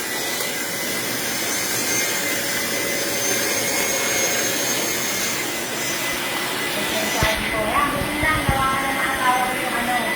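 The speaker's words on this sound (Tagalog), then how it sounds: "Tsaka kung gaano po kaingay itong vacuum namin" A household vacuum cleaner runs with a loud, steady roaring whine that holds throughout, growing a little rougher and bumpier toward the end as it moves across the floor.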